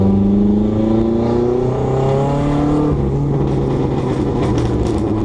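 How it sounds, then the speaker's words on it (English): A Hyundai Sonata engine revs hard and steady with turbo boost building, its tone rising before a sharp blow-off valve release and rougher idle-like rumble, loud and close throughout. "It actually is boosting and it's blow-off valving, so that's a good thing."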